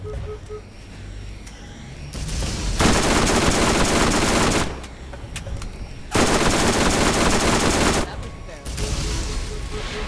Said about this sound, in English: Quit shooting me.